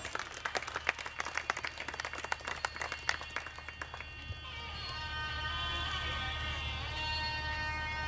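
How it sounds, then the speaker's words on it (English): Applause for young boys and girls at a wedding ceremony, a crowd clapping steadily for about four seconds before fading into a sustained musical hum. "Can we give them a round of applause?"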